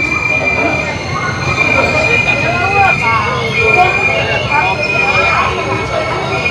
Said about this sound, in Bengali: তো ট্রেন কিন্তু এসে দাঁড়িয়ে পড়েছে খুর্দা রোড জংশনে